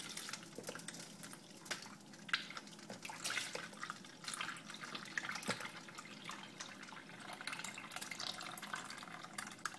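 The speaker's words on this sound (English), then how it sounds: "I'm just going to pour this into the strainer." Bone broth pours and splashes continuously into a strainer, close up, with trickling and dripping throughout and no voices.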